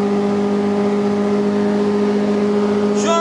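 Two cars, a VE and an SS, drag racing side by side in fifth gear near 240 km/h, their engines a loud, steady, high droning roar held throughout without pause.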